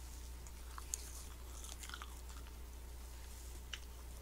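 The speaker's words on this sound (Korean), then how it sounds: "입으로 씹어도 소리 나나 한번 봅시다" Someone chews a very soft, spongy food in the mouth, giving faint, sparse wet clicks and squishes over a steady low hum with no talking.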